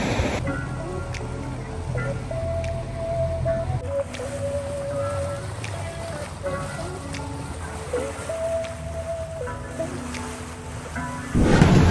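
Boat tour in the Seychelles crossing ocean waves, a steady engine drone with water rushing and splashing against the hull, wind noise, and occasional indistinct voices in the background.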